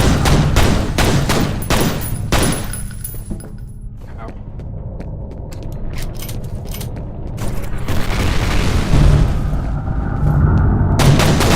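Gunfire in the first-person shooter F.E.A.R., with dense rapid bursts and heavy booms crowding the opening seconds, then sparser shots and a loud renewed barrage toward the end.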